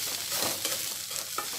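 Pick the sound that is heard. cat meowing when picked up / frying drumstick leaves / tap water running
frying drumstick leaves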